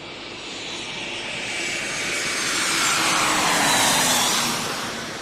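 An airliner on landing approach to runway 34L at Tokyo Haneda in a flight simulator game, a broad, loud engine roar and rushing air that builds steadily and stays strong throughout, with no voices.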